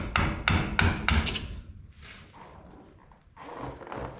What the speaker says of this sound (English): the other side's easy because we just can hammer through